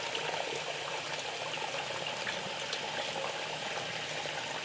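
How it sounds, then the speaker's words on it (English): Dirty, milky rice-washing water is poured slowly out of a pot of rice by hand, giving a steady, close trickling and splashing wash with no talk. "pour out the dirty water"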